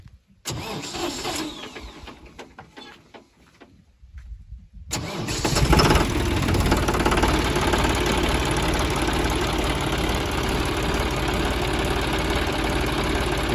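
A John Deere 5405 4WD tractor engine cranks with sputters and a brief lull, then catches and settles into a steady, loud idle rumble up close.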